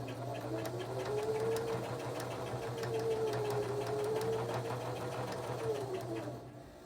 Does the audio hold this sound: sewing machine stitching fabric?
yes